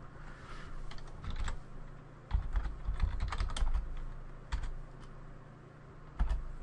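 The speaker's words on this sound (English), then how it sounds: "I'm going to type" A computer keyboard typed on up close in short bursts of rapid, clicky keystrokes, with a few louder thumps and brief pauses between runs, set over a steady low background hum.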